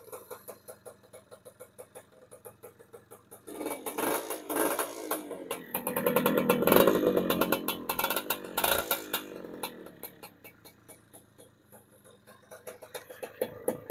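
An old motorcycle engine started on its double starter idles with a rapid rhythmic putter, revving up to a louder roar midway before settling back to a steady idle, heard close.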